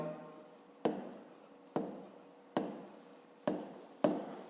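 Pen strokes on paper during a fifth-grade maths exercise, five or six short scratchy bursts at regular intervals, each starting sharp and trailing off, close and fairly quiet with no talk.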